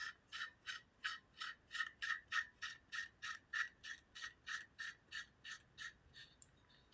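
Barrel nut being screwed onto an AR9 pistol upper receiver, about twenty evenly spaced ratcheting clicks close to the microphone, fairly quiet, trailing off at the end.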